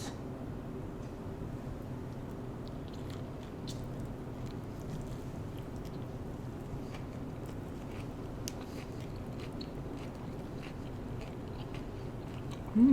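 Someone bites into and chews thick spring rolls dipped in sauce, giving soft, intermittent crunching and chewing sounds close to the mic over a quiet background hum.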